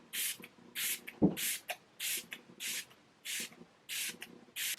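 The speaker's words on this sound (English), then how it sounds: "So I just go in and spray this all over my face, like a lot of it." Repeated short bursts of setting spray misted onto a face, about eight pumps in a steady rhythm, close and crisp, with faint shuffling between.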